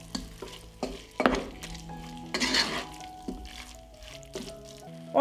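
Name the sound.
stirring chicken with paprika frying in a pan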